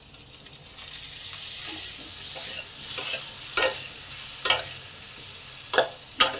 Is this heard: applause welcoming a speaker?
no